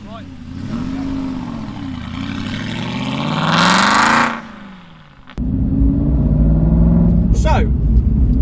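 A 2007 Aston Martin V8 Vantage 4.3 idles with a deep burble, swells into one loud rev, then drops away before settling into a steady, near rumble, with someone talking over it.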